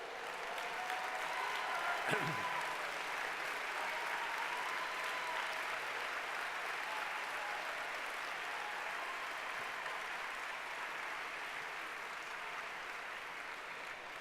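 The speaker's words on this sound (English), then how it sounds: "if we could give them a great round of applause" A dinner crowd at a Virginia Democratic Party gala gives veterans a long, steady round of applause, a dense, even wash of many hands that stays level and fairly distant throughout.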